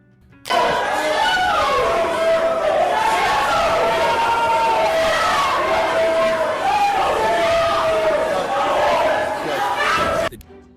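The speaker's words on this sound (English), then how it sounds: "a collective outcry erupts from the gallery. Her supporters begin shouting in protest" A courtroom gallery crowd erupts in loud, sustained shouting and yelling in protest after a ruling, many voices overlapping close by for about ten seconds before cutting off abruptly.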